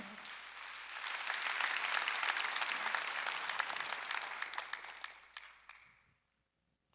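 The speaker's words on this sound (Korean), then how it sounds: "박수해 주세요" Applause from a church congregation at a Sunday worship service, a dense sustained clapping that holds for about five seconds, then thins into scattered claps and dies away to silence.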